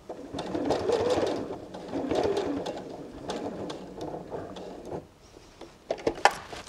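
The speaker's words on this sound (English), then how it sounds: "now I'm going to turn the work diagonally and sew down to that bottom corner" A sewing machine stitches through fabric while the work is turned diagonally toward a corner, with a steady mechanical whirring in bursts that pauses briefly and resumes, alongside soft cooing from a dove nearby.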